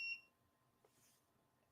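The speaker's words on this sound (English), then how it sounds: "I just heard a beep and I was like, what is happening? It's my door." A door's electronic beep sounds once near the start, a short, fairly loud electronic tone followed by a faint click and quiet room background.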